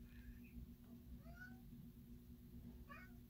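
A domestic cat meows indoors, several faint high-pitched calls at the start, middle and end, over a steady low hum with no talking.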